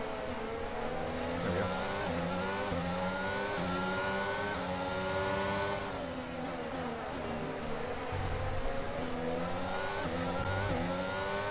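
F1 22 race car on the Azerbaijan circuit, a high-revving engine winding up through the gears with pitch sweeps on downshifts and acceleration, loud and continuous, with faint tire noise.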